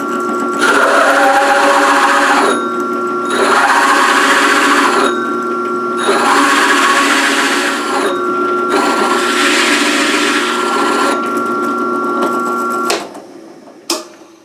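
A drill press motor whines steadily while the bit bites into wood for a wooden wheel, in several long bursts with short pauses, ending in a couple of sharp clicks.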